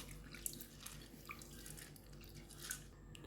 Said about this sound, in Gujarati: આવી રીતે મસળીને ધોઈ કાઢવાની